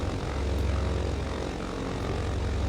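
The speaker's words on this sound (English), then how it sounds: "starboard engine is going" Twin-engine Britten-Norman Islander with its starboard engine now running in Microsoft Flight Simulator, a loud, steady propeller drone with a throbbing low rumble, no voices.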